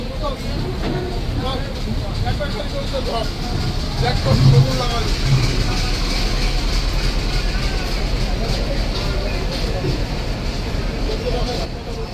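Dolonchapa Express train moving onto the Teesta bridge, a steady onboard rumble and rattle of rolling carriages with voices murmuring faintly in the background throughout.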